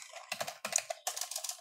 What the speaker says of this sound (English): So if I type a different word,